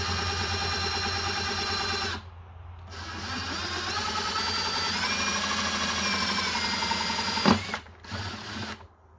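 A power drill runs in reverse to bore a hole into a plastic bucket, a steady whining motor hum with a brief dip partway through, then stopping and restarting in short bursts near the end.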